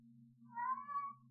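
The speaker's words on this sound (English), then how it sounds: "Y'all hear Cat in the background?" A single short cat meow, clear and close, rising then falling, over a faint steady low hum.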